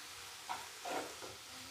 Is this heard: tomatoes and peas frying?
yes